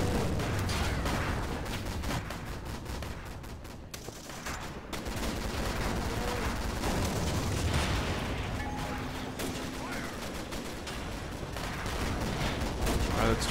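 Sustained gunfire and cannon blasts from a tank battle in the video game Steel Fury, a dense, loud, continuous barrage of repeated shots with a brief lull partway through.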